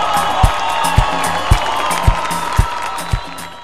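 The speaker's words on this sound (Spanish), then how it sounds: "El aplauso." Audience applause and cheering at an Afro-Colombian cultural tribute concert in Bogotá, a steady dense wash of clapping with crowd noise over rhythmic low drum-like thumps.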